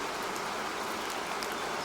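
Steady rain plays as a macOS Ventura background sound, a dense, even hiss of falling drops that stays level throughout, with no voices.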